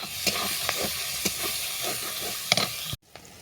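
Spices, slit green chillies, chopped onion and prawns sizzle in hot oil for a Bengali ridge gourd curry, a steady loud hiss broken by stirring scrapes and a few sharper crackles before the sound cuts out abruptly near the end.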